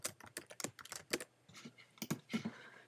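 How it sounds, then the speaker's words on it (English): Quick bursts of typing on a computer keyboard, a dozen or so crisp, close key clacks in uneven clusters with short pauses, heard alone in a quiet room. "I'm just going to type in GIMP know-how."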